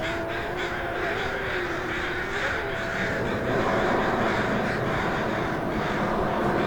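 A crow caws in a series of harsh, hoarse calls, close and fairly loud over a constant bed of noise that grows slightly heavier toward the end.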